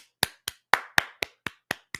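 Eight sharp, evenly spaced claps, about four per second, close and crisp with silence between them, like one or two people clapping in a podcast studio.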